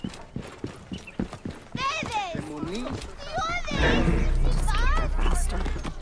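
A horse gallops in Assassin's Creed Origins, rapid clip-clopping hoofbeats at first, then a shouting voice and louder rushing movement take over while the hooves continue underneath.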